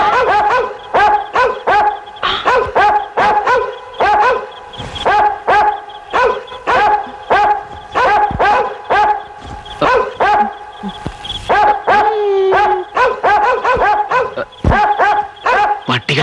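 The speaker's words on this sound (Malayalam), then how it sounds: "പട്ടികൾ പുതിയതാ, നമ്മളോട് തന്നെ ശരിക്കും ഫ്രണ്ട്ഷിപ്പ് ആയിട്ടില്ല." Several dogs bark repeatedly in rapid, loud bursts with occasional yips and whimpers, close by and filling the scene almost continuously, with a brief pause partway through.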